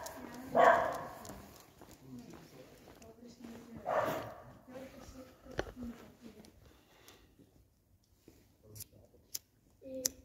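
A Pyrenean mountain dog barks indoors in a flat, two loud woofs a few seconds apart, followed by quieter clicks and thuds while a person talks nearby.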